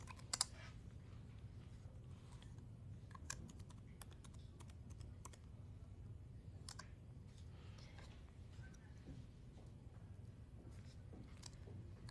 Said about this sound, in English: so let's just go ahead and type yes.